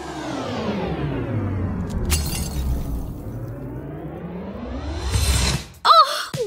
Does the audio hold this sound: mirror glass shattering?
yes